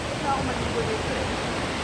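Steady roar of Tinuy-an Falls, a wide multi-tiered waterfall, heard up close as a dense, even rush of falling water with no break across the short stretch.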